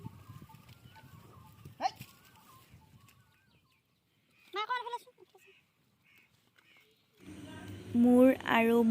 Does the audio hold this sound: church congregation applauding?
no